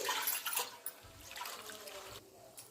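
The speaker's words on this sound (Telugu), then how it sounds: "ఇట్లా పై నీళ్ళు వంచేసుకోవాలి" Water poured off soaked black gram dal, a soft close splashing gush in short bursts with trickling between, heard without talk.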